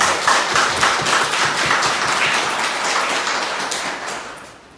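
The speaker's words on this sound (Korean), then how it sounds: "격려 박수 한번 드려보겠습니다" A congregation claps together during a Korean Sunday church service, producing a dense, even burst of applause that holds steady for a few seconds before tapering off at the end.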